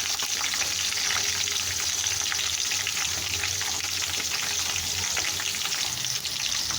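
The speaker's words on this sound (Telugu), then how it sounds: "పచ్చిమిర్చి కూడా ఆయిల్లో ఉడికిపోయి" Chopped green chilies frying in hot oil as a tempering for a mutton head curry, giving a loud, constant close-up sizzle with light bubbling and crackle throughout, no voices.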